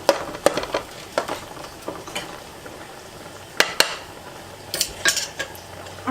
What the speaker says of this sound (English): we're going to start mixing around our pasta